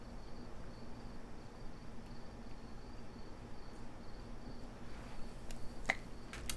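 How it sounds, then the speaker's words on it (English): Crickets chirp in the background of the Sega Genesis game Streets of Rage 2, a steady faint insect trill over a low ambient hum, with a couple of brief sharp clicks near the end. "Got the crickets in the background."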